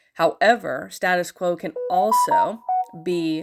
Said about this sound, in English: sorry for the beeping, I just got a notification